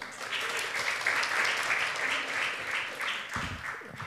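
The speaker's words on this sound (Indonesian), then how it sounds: "Tepuk tangan dong sekali lagi untuk Vano AP." A crowd applauds a stand-up comedian at a comedy competition in Solo. The clapping is full and steady for about three seconds, then thins out and fades near the end.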